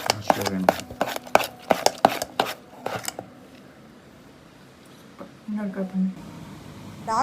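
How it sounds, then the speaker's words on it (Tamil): Dark chocolate chopped into small pieces with a knife on a board for a ragi brownie batter, a quick run of sharp close chops and taps, then fading as a voice speaks over the end. "டார்க் சாக்லேட்டை குட்டி குட்டியாக சாப் பண்ணி இந்த பேட்டரில் ஆட் பண்ணிக்கலாம்."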